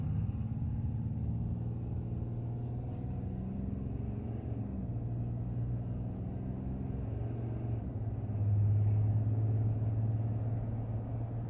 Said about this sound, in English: we're getting out here on the highway, or on the 110. Let's see how this truck performs.